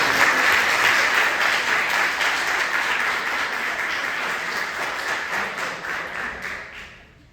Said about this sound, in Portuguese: vocês, mais uma vez, dão uma salva de palmas em agradecimento ao nosso Deus